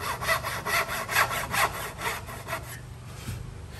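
A hand saw cuts through wood to form a dovetail joint, giving a steady series of rasping back-and-forth strokes, close and fairly loud, that slow and fade out near the end.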